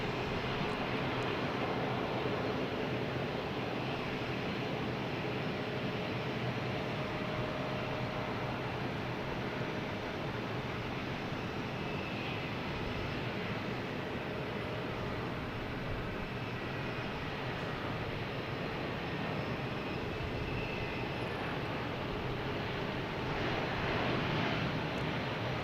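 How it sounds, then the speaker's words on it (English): An airliner in special Celtics livery on approach into Boston Logan from Nashville, its jet engines a steady, broad roar that holds at a fairly even level throughout with no voices over it. "In honor of Chris's memberships, we have the Celtics plane coming in from Nashville."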